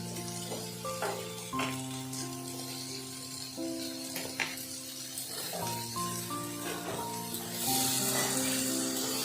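Potatoes and eggplant fry in spiced masala for a dried-fish curry, with a soft, steady sizzle that brightens near the end under a sustained humming tone, and occasional faint clinks from a utensil against the pan.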